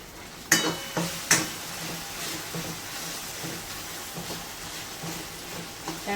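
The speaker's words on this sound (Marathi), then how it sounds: "पाच ते दहा मिनिटांमध्ये व्यवस्थित कांदा आपला हे करून घ्यायचा आहे शिजून" Onion fries in a pan for a sev bhaji while being stirred, giving a soft continuous sizzle punctuated by a few sharp spoon knocks near the start and lighter scrapes afterward, close and without talk.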